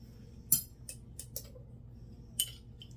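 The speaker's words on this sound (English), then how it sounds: "We're going to use our measuring spoon to stir that up" A measuring spoon clinking against a container while dry active yeast is measured for keto bread, giving a few sharp, quiet metallic taps spaced irregularly over a near-silent background.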